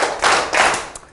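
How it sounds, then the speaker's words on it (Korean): A classroom of students claps their hands together three times in unison during a Korean literature lecture, producing three distinct, close, loud bursts evenly spaced about a third of a second apart. "박수 3번 쳐."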